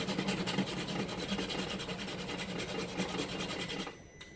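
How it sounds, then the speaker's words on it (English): Whole nutmeg scraped against a grater in a kitchen while making coconut coffee creamer, a steady close rasping rub with repeated strokes for about four seconds, ending abruptly. "I'm going to grate a pinch of nutmeg"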